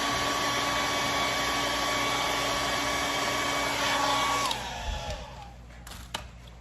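A hair dryer blows steadily over acrylic paint, a loud continuous whirring hum that cuts off near the end, followed by a few soft clicks and handling noises.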